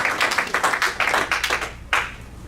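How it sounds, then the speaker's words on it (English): A church congregation claps in quick rhythmic bursts during a worship service, loud and close, with a brief pause before one last sharp clap. "Let's clap for Jesus again."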